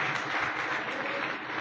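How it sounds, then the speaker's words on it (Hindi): Applause from an audience gathered at a charity foundation's branch opening in Naultha, Panipat, Haryana: steady, dense clapping that fills the whole moment without a break, fairly close and even in loudness. "उसको ताली बजाएंगे सभी लोग।"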